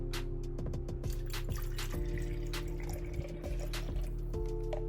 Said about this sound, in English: I'm gonna fill this up with some water.